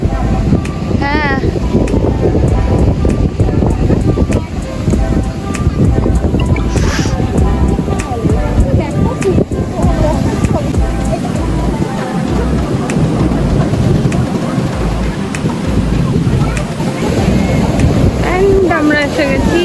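Wind roars and sea waves wash steadily onto the beach near Puri in a loud, constant rush with heavy wind buffeting the microphone. Voices can be heard faintly in the background.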